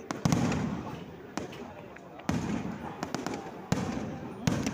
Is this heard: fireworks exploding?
yes